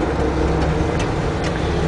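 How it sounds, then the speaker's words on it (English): A Ford 283 V8 with a naturally aspirated Edelbrock carburetor, fitted in a 1962 Chevy C10 pickup, idles with an even, smooth, continuous low rumble, close and fairly loud, with no talk. "And you can hear that, how smooth and powerful that Ford 283 sounds with the naturally aspirated Edelbrock"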